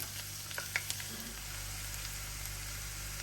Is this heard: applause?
no